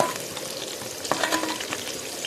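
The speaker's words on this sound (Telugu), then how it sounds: "కొంచెం కరివేపాకు, వేసుకున్న తర్వాత ఒక్కసారి ఇలా కలుపుకోవాలి." Curry leaves crackle in hot oil and get stirred once, making a dense close sizzle with a few sharper pops and a spoon scrape midway.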